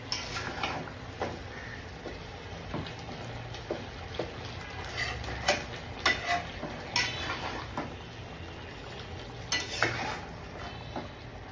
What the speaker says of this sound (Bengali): গরুর গোশটা কষাবো